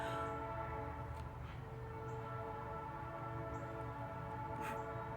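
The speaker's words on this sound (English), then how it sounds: "before that train gets any closer" A train rumbles steadily with a low, droning engine hum; no distinct horn blast stands out, just continuous mechanical noise.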